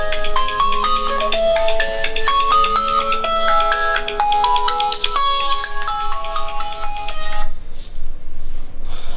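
A telephone rings with a loud melodic ringtone, a repeating pattern of bright electronic tones playing for several seconds close by before cutting off.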